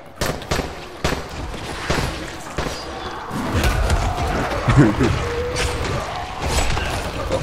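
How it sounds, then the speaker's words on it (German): Gunfire in the video game Dying Light: a handful of sharp, loud shots and thuds in quick succession at the start, followed by rumbling game noise and someone talking. "Er hat jetzt etwas geschossen"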